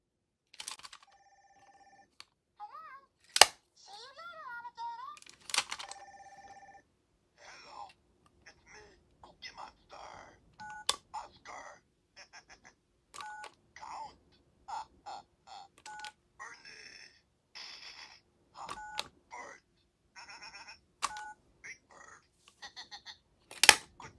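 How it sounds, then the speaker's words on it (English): Sesame Street Cookie Monster and Elmo toy phone playing electronic beeps, tones and snippets of character voices and music, a busy string of short bursts with quiet gaps between. "Next, we have our Sesame Street Cookie Monster and Elmo phone."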